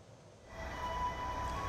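Long-distance passenger train at Pasar Senen station in Jakarta during the post-holiday return rush, a low rumbling rail noise swelling in after a quieter start, with a steady high tone running through it and no one speaking.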